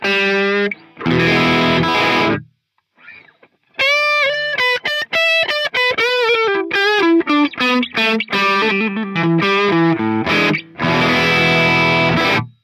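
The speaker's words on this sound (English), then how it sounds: "For the crunch tones, I'll run through the Marshall SV20 into the same cab vintage V30s into your ears." An Ibanez RG5121 electric guitar plays a crunchy, distorted rock tone through a Marshall SV20 amp into a cabinet with Vintage 30 speakers: sustained chords, then fast riffs and single-note runs with short stops, loud and close, with no talking.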